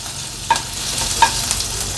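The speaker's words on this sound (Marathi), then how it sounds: "आलं लसूण क्रश आपण थोडंसं तेलावर परतून घ्यायचं आहे" Crushed ginger and garlic sautéing in a little hot oil for a mutton paya curry: a soft, steady sizzle, close by, with two brief sharp clinks of a spoon against the pan.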